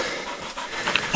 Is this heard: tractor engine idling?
no